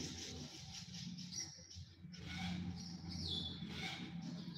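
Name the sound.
aviary birds calling restlessly near a monitor lizard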